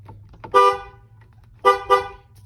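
The horn of a 1999-2002 Chevy Silverado 1500 blares three times: one short honk, a pause, then two quick honks close together, loud and nearby.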